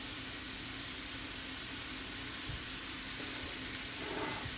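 Rice and vegetables fry steadily in a wok, giving a constant loud sizzle and hiss with faint scrapes and stirring underneath throughout.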